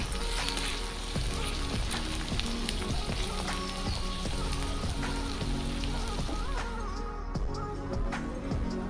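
Chopped onion frying in hot oil in a pan for a Bengali-style chicken curry, a steady close sizzle and crackle throughout with occasional utensil clicks.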